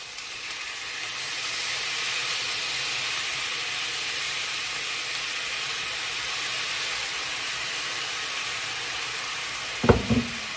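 Soy sauce sizzling in a hot pan, a steady bright hiss held close and even for several seconds, with a short clink of a utensil near the end.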